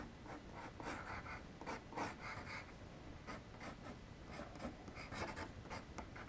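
A pencil sketches a figure on paper ahead of painting, making soft, close scratchy strokes in quick irregular bursts with no talking.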